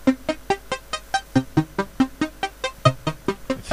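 A synthesized note programmed at C4 in an LMMS piano roll repeats as short, evenly spaced plucky hits, roughly four per second, clean and alone.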